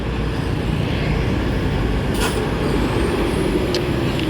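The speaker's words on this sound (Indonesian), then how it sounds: "Tengok mobil banyak banget." Busy road traffic on an afternoon street in Sikabau, a continuous loud rumble of many passing cars and heavy engines, with a brief sharp hiss of air brakes partway through and no talk.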